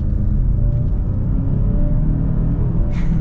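A 2024 Genesis G80 2.5T in sport mode accelerating hard, heard from inside the well-insulated cabin as a steady, loud low engine rumble and drone with no talking.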